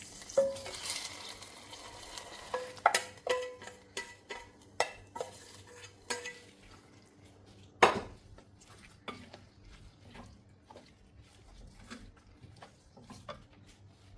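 Mustard seed, curry leaf and dried red chilli tempering stirred into a Kerala-style carrot curry ground with coconut; a spoon scrapes and clinks against the pot in scattered strokes over a faint sizzle, with one sharp clack midway.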